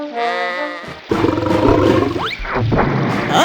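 A lion roaring in a children's PC video game, a loud full-bodied roar that takes over after a brief musical opening.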